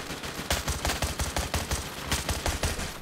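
Rapid bursts of video-game gunfire, dense repeated shots clustering into volleys across the whole stretch, loud and close with no talk over it.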